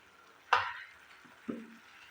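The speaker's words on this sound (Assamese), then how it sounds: "এইদৰে মিডিয়াম ফ্লেমত ভাজিব।" Spice masala fries in a pan on medium flame for a paneer curry, heard as two sharp sizzling bursts, the first louder, likely as wet paste meets hot oil, then dying quickly to quiet.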